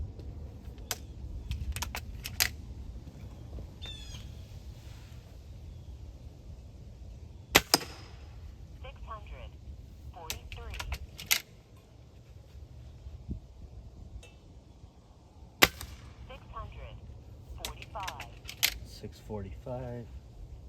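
A Gamo Swarm 10x Whisper air rifle is fired through a chronograph, giving several sharp, quiet snaps spaced seconds apart over a low background hum, with faint bird chirps and murmuring voices.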